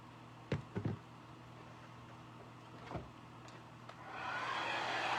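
A hair dryer blows on a DIY Christmas wreath, coming on near the end as a steady close whoosh after a few knocks and handling sounds.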